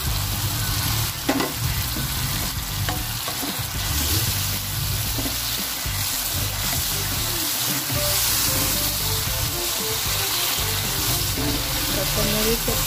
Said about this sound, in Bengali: কাঁচামরিচ আর টমেটোটা দিয়ে দিলাম, এবারে অল্প নেড়ে নেব